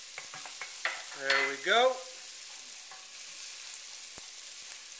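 Garlic added to a pan where onion is already frying for a leftover chicken dish, giving a brief stirring scrape and a rise of sizzle over a quiet background hiss, with a short spoken remark near the start.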